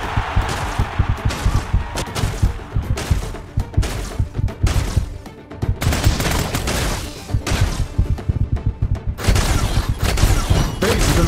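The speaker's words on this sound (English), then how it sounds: "attack! Monster Frag!" Dense gunfire and explosions from the mobile shooter game Frag Pro Shooter, rapid volleys and heavy thuds pounding almost nonstop, loud and close throughout.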